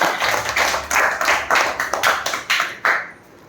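A school audience at an MPP school in Ambajipeta applauds in loud, close rhythmic bursts of hand claps that fade out near the end.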